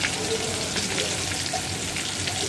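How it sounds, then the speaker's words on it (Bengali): Chicken pieces deep-frying in oil over full high heat, a dense steady sizzle and crackle filling the short stretch without a break, fairly close and loud, with no talking. "পুরো চুলার হিটটা মানে পুরো হাই হিট দিয়ে এটা ভেজে নিচ্ছি"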